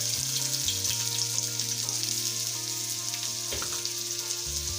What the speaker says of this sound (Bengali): ফ্রাই প্যানে দিয়ে দিচ্ছি তেল, আর তেলটা দিয়ে দিব, সাথে দিয়ে দেবো পেঁয়াজ কুচি